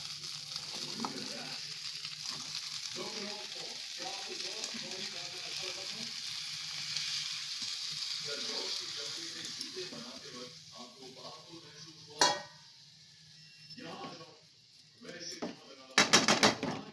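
Cabbage goes into a pan of potatoes and chana dal, giving a steady broad frying sizzle under a woman's speech, with a few sharp clinks of a utensil near the end.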